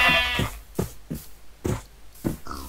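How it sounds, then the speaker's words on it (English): Sheep in Minecraft bleating repeatedly, several short separate bleats spaced about half a second apart, close and clear with no talking. "Let's go find me some sheep."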